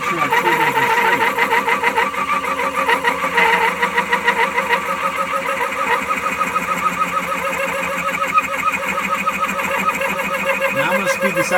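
A wood lathe spinning at around 577 RPM while turning a piece with a crooked hole, giving a continuous close mechanical whir with a rapid rhythmic chatter that holds steady throughout, with faint talk underneath.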